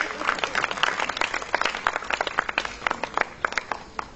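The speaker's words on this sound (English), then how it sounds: "Give them a round of applause, please." An audience applauds at a ceremony, with scattered individual claps standing out in an uneven patter that stays at moderate volume throughout.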